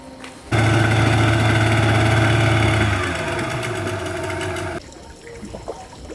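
A boat's motor comes in abruptly, loud and close, holding a steady droning hum for several seconds before dropping lower and cutting off, with faint water and background noise after.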